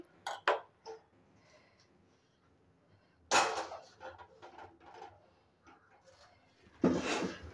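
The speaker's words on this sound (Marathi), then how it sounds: "तर गॅस पेटवते, कढई ठेवते।" A metal kadhai is set down onto a gas stove in a home kitchen, giving a few sharp clanks and knocks with quieter handling between them, fairly close and with no talking.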